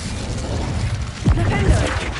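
Incendio fire spell cast in the video game Hogwarts Legacy, a sudden whooshing burst of flame over steady game ambience, with a second smaller flare just after.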